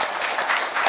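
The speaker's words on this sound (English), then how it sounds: "We can clap it up for that." A short burst of audience applause, steady broadband clapping from many hands close by, with no voices over it.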